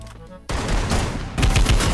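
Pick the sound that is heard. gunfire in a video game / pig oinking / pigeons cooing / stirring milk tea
gunfire in a video game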